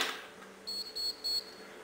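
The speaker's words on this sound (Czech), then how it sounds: "Pokud si čipne neoprávněným čipem nebo nemá aktuál v tento čas právo průchodu, čtečka jenom varovně zapípá a dveře neotevře." Access-control chip reader on a door with an electromagnetic lock, refusing an unauthorized chip with three short, high electronic warning beeps in quick succession, quiet and alone.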